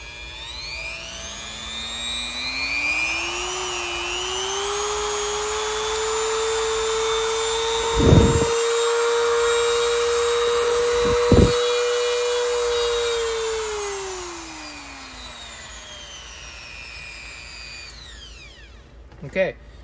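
A DEPSTECH DM180 variable-speed rotary tool at its lowest setting, a motor whine that rises as it spins up, holds steady with two brief sharp contact noises, then winds down, close and loud.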